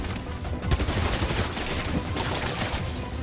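Dense, continuous gunfire in a Spider-Man video game, a rapid fusillade of shots that fills the whole stretch at steady loudness, with no clear pauses and no talking.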